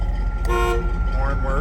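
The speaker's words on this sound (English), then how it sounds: "Horn works." 1978 Chevrolet K10 pickup horn giving a single short toot over a running engine's low hum.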